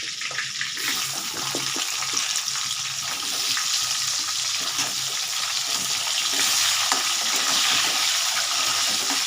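Cut potatoes fry in hot oil with dry chilli and bay leaf, giving a loud, dense, continuous sizzle and crackle that holds steady throughout, with no talking.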